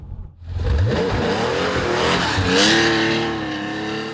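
A vintage Tuthill Porsche 911 rally car revs and accelerates on a test course, its engine note climbing through the gears with a brief tire squeal, loud and close throughout.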